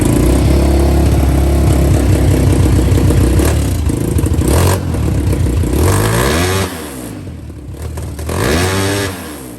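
A 2022 Honda Grom motorcycle engine revs loudly close by, its pitch sweeping up and down through several throttle blips with a rough mechanical clatter, easing off briefly before rising again.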